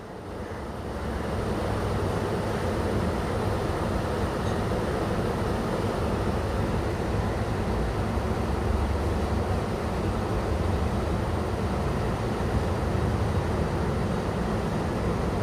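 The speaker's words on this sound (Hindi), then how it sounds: "बीच में ये लोकल ट्रेन आ गई" A Mumbai local train passing near Bandra Terminus, a steady loud rumble of wheels and carriages rolling by at close range for the full length without pause.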